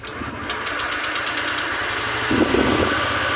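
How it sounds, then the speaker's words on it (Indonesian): Honda Vario 125 scooter engine idling with a hesitating fault, a steady close putter with a rhythmic knocking pulse, growing a little louder and rougher toward the end. "Nah, kita tunggu dulu langsamnya turun."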